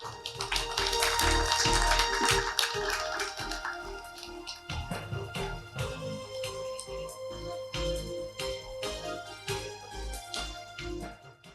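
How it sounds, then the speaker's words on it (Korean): Audience applause welcoming a speaker to the stage at a conference politics session: loud, dense clapping for about four seconds, then thinning into scattered, fading claps with no talking. "큰 박수로 환영해 주시기 바랍니다"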